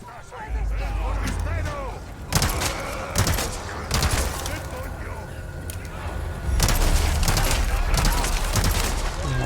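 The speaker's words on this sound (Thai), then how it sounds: "เราลองยิงระยะไกลขึ้นมาบ้างนะครับ" An LE5 light machine gun firing at long range in the Resident Evil 4 Remake video game, bursts of rapid shots with booming reports and gaps between them, someone talking over parts.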